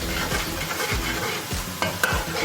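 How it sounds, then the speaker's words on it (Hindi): Fennel, nigella and fenugreek seeds roast in a hot pan for a bitter gourd masala, giving a steady sizzle broken by regular scraping stirs, close and moderately loud, with no voices. "एक से 2 मिनट तक हम इसको सौंफ के साथ भूनेंगे, सौंफ, कलौंजी और मेथी दाने के साथ"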